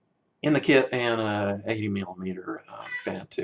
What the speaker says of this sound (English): And that is a cat meowing in the background.